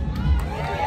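A crowd cheering at a Marvel heroes stage show aboard a Disney cruise ship, a brief loud roar of voices.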